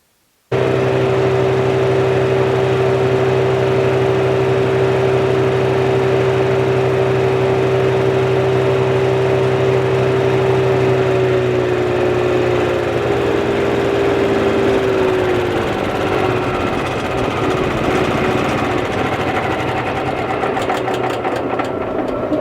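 Woodmaxx 1260 wood chipper engine idling after startup, a loud, steady close-up mechanical drone with a constant low hum and humming tone that settles and shifts slightly in pitch midway, running continuously with no talk.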